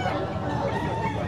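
Gamefowl chickens, a black hen and a stag, cluck and crow at a holiday sale at a grotto. The calls are fairly close and layered over a busy background.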